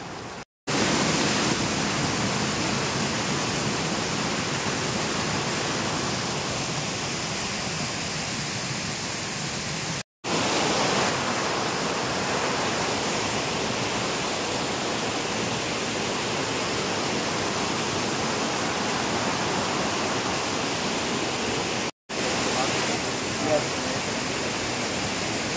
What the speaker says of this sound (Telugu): ఆ వాటర్ సౌండ్ కూడా చూడండి ఎంత